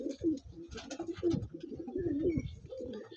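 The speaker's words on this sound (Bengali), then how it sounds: "আমি পায়রাটা দেখাচ্ছি, দেখুন।" Andhra breed pigeons cooing close by, a soft rolling series of low throaty coos repeating steadily for a few seconds, with no talking.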